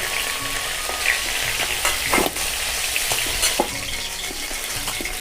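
A catla fish head fries in hot oil, giving a continuous close hiss and crackle with occasional spatters and scraping stirs, no voices.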